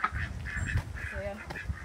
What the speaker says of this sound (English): Very noisy duck.